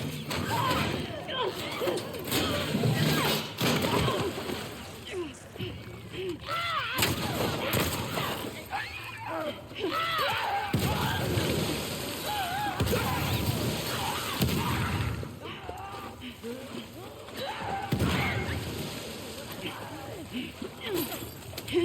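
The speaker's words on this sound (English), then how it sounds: "we're going to throw 4 pipe bombs at him" Pipe bomb blasts in The Last of Us Part II, a series of loud booms and gunfire-like bursts spaced through a busy combat scene, with someone talking over much of it.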